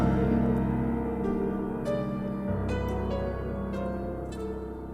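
A piano line in a music mix, processed with an FL Studio stereo shaper effect preset, plays sustained tonal chords over steady bass for about five seconds, with no voices.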